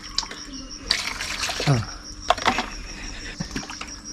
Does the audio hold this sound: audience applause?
no